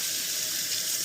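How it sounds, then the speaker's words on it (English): Tap water runs steadily over a red onion being rinsed at a kitchen sink, a constant close hiss of flowing water. "Rinse that bottom part"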